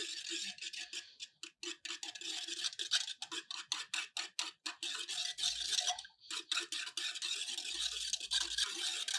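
A spoon stirs ragi porridge in a bowl with a little added water, giving rapid repeated scraping and clinking strokes, close and fairly loud, with brief pauses and no talking.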